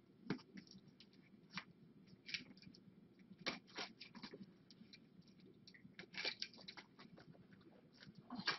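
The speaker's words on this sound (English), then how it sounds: "I can hear you munching" Someone munching and chewing food close to the microphone, with a steady run of crunchy, clicking bites and wet mouth sounds over a low background murmur, fairly quiet throughout.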